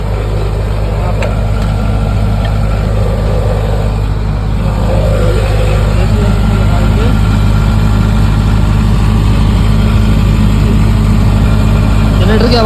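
A generator engine runs during an alternator repair, giving a loud, steady, close idling drone that holds unchanged for the whole stretch.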